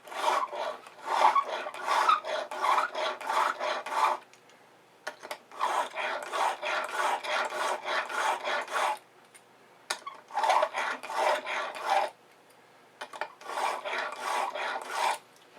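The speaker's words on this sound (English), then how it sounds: "I typically just always push when I'm honing on the stone." A broadhead is pushed across a sharpening stone in a KME sharpener, with brisk, gritty rasping strokes in rhythmic groups separated by short pauses, close and clear with no talking.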